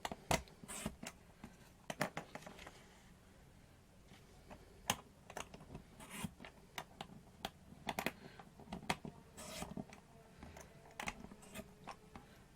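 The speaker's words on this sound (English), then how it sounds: "put my cutter back in its housing, and cut" Quiet, close scratchy snips and clicks come from a paper cutter sliding through card on a banner punch board, in short irregular bursts with no talking.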